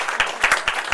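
An audience claps for a speaker on stage at a tea launch event, a brief burst of applause with uneven, overlapping hand claps.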